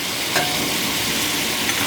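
Ginger garlic paste frying with kasuri methi for chicken karahi, a steady, loud, close hiss of oil with faint stirring scrapes and no voices.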